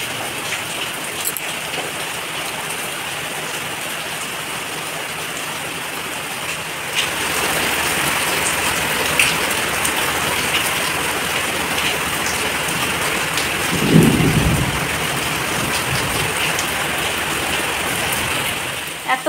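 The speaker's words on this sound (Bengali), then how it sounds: "এত বৃষ্টি হচ্ছে যে পুরো ঝমঝমি, আর মেঘ ডাকছে, মেঘ ঝিলকাচ্ছে" Heavy rain pours steadily outdoors at night, a dense continuous roar with wind, and a brief low rumble of thunder rises partway through.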